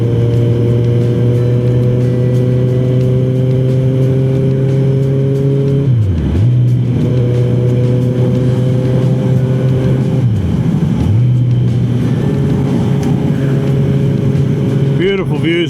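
A car drives along a road near Mount Sturgeon, its engine a loud, close, steady drone that dips twice as if shifting gears before settling again.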